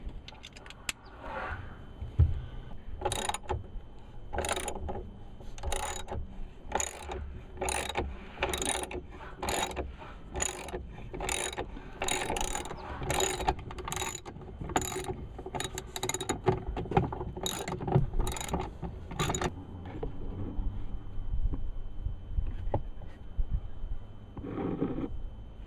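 A hand ratchet clicks steadily in rapid bursts for a long stretch while the grab bar is removed from a Jeep Wrangler's A-pillar, close and loud over a continuous mechanical background.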